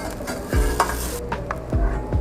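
Crackling sizzle of a bean and cheese quesadilla crisping in a hot frying pan, with a few scraping stirs and low thumps, close up and steady.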